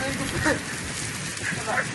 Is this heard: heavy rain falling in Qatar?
yes